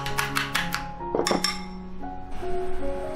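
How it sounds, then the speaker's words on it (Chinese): Eggs are cracked into a bowl with a quick series of sharp clinks of shell against the rim, then a thicker knock and a few lighter taps as the contents drop in. "再来打4个鸡蛋"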